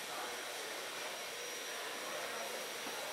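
A Hoover vacuum cleaner running outside near a parked fifth-wheel RV, a faint, even, continuous hiss-like whine with no change in pitch or level, heard from a distance without talking.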